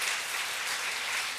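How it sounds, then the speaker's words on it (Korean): A congregation at a Sunday church worship service claps together in a dense, continuous burst of applause, fairly close and with no talking over it. "박수 한번 쳐줘."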